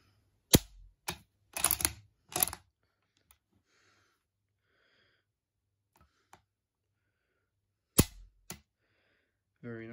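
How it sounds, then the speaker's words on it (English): A deactivated Lee Enfield rifle is worked and dry fired, giving sharp close metallic clacks and clicks from the bolt and trigger in separated bursts with silence between, and a voice begins at the very end. "Bolt can move, and it can also be cocked as well. We'll give it a dry fire."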